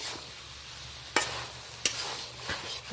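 Spoon stirring coconut shrimp curry with ridge gourd in a pan, soft sizzling throughout with a few sharp scraping clacks against the pan, close and fairly quiet, no talking.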